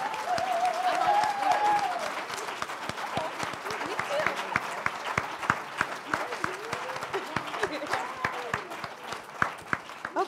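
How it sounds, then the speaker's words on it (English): Conference audience applauding young people, a full round of clapping with cheers and voices early on, thinning into scattered individual claps as it dies away. "So another round of applause for these really amazing,"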